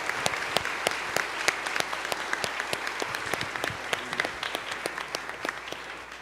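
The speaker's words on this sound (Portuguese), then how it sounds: "acolham seus padrinhos e madrinhas e também toda a comunidade com uma salva de palmas" A church congregation applauds godparents at a Sunday Mass, steady close clapping with distinct sharp individual claps standing out across the room, continuous throughout.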